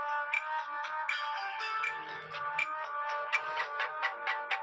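A phone ringtone plays continuously during a prank call, a bright repeating melodic tone with regular pulses, fairly close and clear, with no one speaking.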